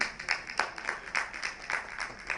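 Sparse, rhythmic clapping from a small conference audience, a handful of close claps repeating at a steady beat, fairly faint and with no talk over it.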